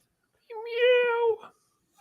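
A single drawn-out cat meow, close and fairly loud, rising and then trailing off over about a second, with silence on either side.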